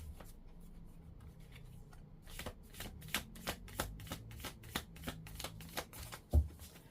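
Tarot cards being shuffled by hand, a soft papery rustle building into a run of quick, regular flicks and slaps, close and quiet with no voices.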